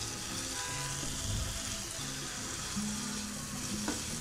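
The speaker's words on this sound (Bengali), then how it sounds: "এখন কাঁচা গন্ধটা চলে যাওয়া পর্যন্ত ভেজে নিব" Ginger and garlic paste fries with tomato in a pan, producing a soft, steady, fairly quiet sizzle with occasional faint stirring.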